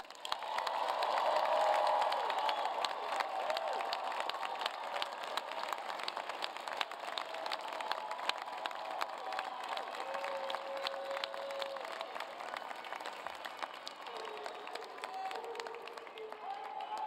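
Sustained applause from a large audience at a University of Maryland winter graduation ceremony, a dense wash of clapping that swells early and then gradually thins, heard from within the hall with faint voices underneath.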